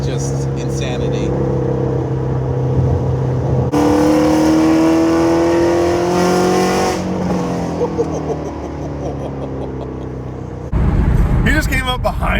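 A Ford Mustang Shelby GT350 with its Voodoo engine revs nearby, its loud engine tone rising and falling through several pulls. The roar swells sharply in the middle and again at the end, and a voice can be heard talking over it.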